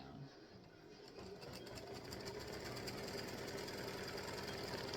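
A sewing machine stitches to tack fabric down, its motor whirring and needle chattering in a fast steady rhythm that builds slightly and holds, close and fairly quiet, with no talk.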